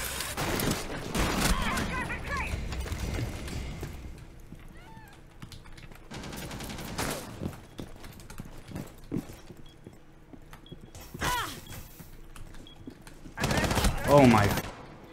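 SMG gunfire in a competitive video game, with several rapid, sharp bursts spread through the moment between quieter stretches and a player talking in places.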